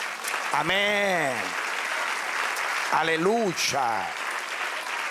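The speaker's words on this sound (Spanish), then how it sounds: "Den un aplauso al Señor." A church congregation applauds in steady clapping while voices call out exclamations over it.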